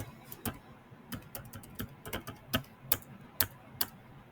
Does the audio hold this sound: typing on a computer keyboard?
yes